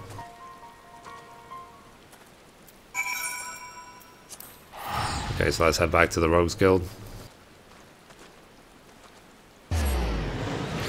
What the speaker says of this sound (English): Oh, it started raining randomly.